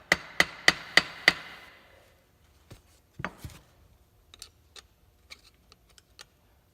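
A key is tapped out of a flywheel with five quick, ringing metallic hammer strikes in rapid succession, followed by quieter, irregular taps and clinks spaced out over the next few seconds.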